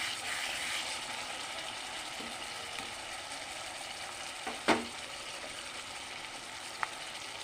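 Spice paste sizzles steadily in hot oil for pabda fish curry, a dense continuous frying hiss with a soft stir clatter partway through and a faint tap near the end.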